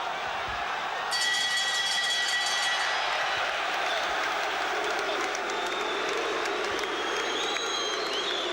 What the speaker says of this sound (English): The booing directed at McCallum for a couple of punches delivered after the bell